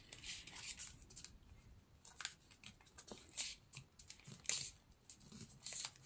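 Paper being folded and handled while making a 12x12 paper summer journal holder: soft crinkles, creases and brushing sounds in scattered bursts, close and fairly quiet, with no talking.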